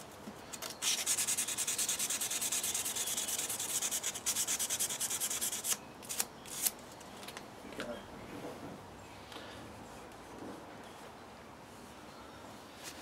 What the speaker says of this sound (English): don't forget the spine of the knife